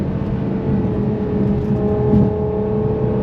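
A Ferrari Purosangue SUV cruises along with a steady, loud engine drone and humming tonal harmonics, holding an even pace throughout.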